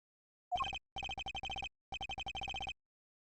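A flip phone in the Ace Attorney Investigations 2 video game rings with a short rising chirp, then two bursts of rapid electronic trilling separated by a brief pause, clean and isolated.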